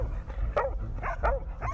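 Pig-hunting dogs bark at a wild boar outdoors, a rapid series of sharp, excited barks and yips over a low rumbling background, fairly close.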